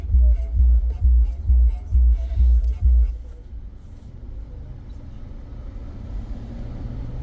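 A manual car rolls slowly as the driver eases off the clutch without gas. A low engine rumble pulses rhythmically for about three seconds, then settles into a quieter, steady drone.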